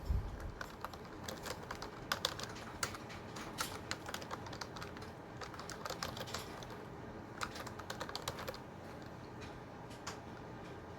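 Quick, steady keystrokes on a computer keyboard while a title is typed, soft and close, a continuous run of clicks with no speech.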